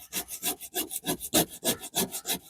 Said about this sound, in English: So just sand that down.